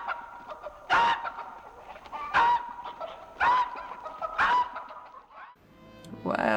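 A man imitates a chicken, with a repeated run of clucking, squawking bursts at roughly one-second intervals, close and fairly loud, ending in a longer crowing call.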